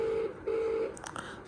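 A phone call being placed gives two long steady ringback tones in a row, fairly faint, followed by a few short clicks.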